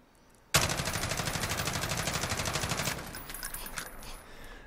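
An H&K G36 rifle in Call of Duty Modern Warfare fires a sustained full-auto burst of rapid, evenly spaced shots for over two seconds, then clattering tail noise as it stops, with no talk.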